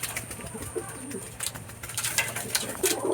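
Racing pigeons being readied for a derby coo softly in low repeated throaty calls, with occasional light rustling and faint background noise around them.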